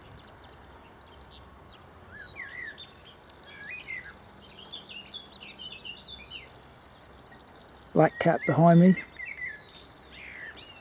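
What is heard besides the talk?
blackbird singing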